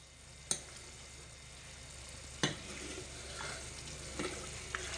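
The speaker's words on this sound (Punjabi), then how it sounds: "5 ਮਿੰਟ ਹੋ ਗਏ ਇਹਨੂੰ ਹੋਰ ਰਿੱਝਦੇ ਨੂੰ ਦੇਖੋ ਗਾੜਾ ਹੋ ਗਿਆ" Homemade desi ghee simmering from butter in a pan, a soft steady frying hiss with a few sharp spatters and clicks of stirring, fairly quiet and with no voices.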